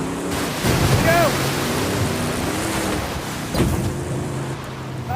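A Nissan Titan Warrior truck drives through a river, with a continuous rushing splash of water and engine noise, loud and close, while a voice calls out briefly.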